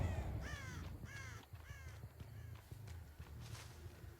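Several crows caw in a repeating series of harsh calls within a horror video game, set against busy background game noise and faint footstep-like sounds.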